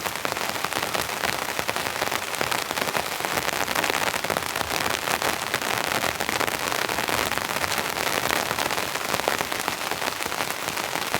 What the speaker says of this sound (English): I just have a beautiful sound of the rain on the tarp tonight.